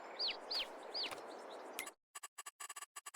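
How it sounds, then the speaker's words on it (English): Chickens in the farming game Farming Simulator 22 give a few quick, clear clucks in the first two seconds, followed by a rapid series of soft, evenly spaced clicking ticks. "Chickens."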